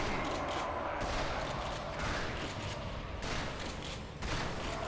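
Shotgun fire in a Ratchet and Clank game, a few broad bursts of blasts separated by short gaps, fairly loud and harsh with a rumbling tail.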